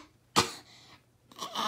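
A storyteller's voice imitates a cough during a children's story reading: one sharp, breathy burst, then a softer rasping exhale and a second, rougher hack, close to the mic.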